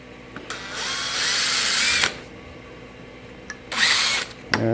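A power drill with a dull bit bores into metal for a car bracket on a 1965 Thunderbird convertible, running in two loud bursts with short quiet gaps between, close by and with no talk.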